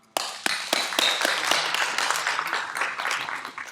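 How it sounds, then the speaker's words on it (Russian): An audience at a lecture on pediatric oncology bursts into applause, a sudden start of dense clapping with a few sharp distinct claps, steady and moderately loud for several seconds. "я хочу поблагодарить его за это громкими аплодисментами"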